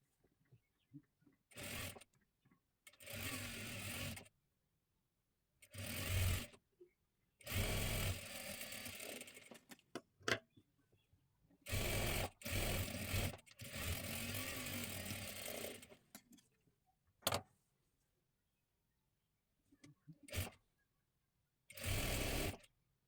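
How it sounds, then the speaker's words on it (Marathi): Sewing machine double-stitching lace along both edges of a puff sleeve, running in repeated bursts of steady whirring separated by short pauses, close and fairly loud, with no talking. "डबल शिलाई देऊन घ्यायची आहे."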